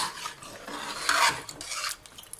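Boiled chana dal being stirred and mixed in a pot, with close, wet scraping and clinking of a utensil against metal in uneven strokes, a faint sizzle beneath and no talking.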